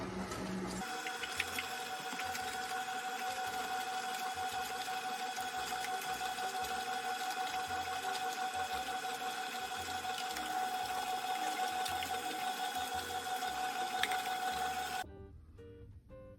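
A Hurom H400 slow juicer works through stemmed greens, giving a steady mechanical whir with a sustained tonal hum and liquid trickle, running continuously and close before stopping abruptly near the end.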